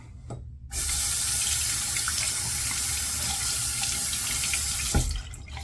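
Tap water runs steadily into a bathroom sink for a rinse after a wet shave, starting abruptly after a short quiet moment, holding a constant hiss for several seconds, then cutting off near the end.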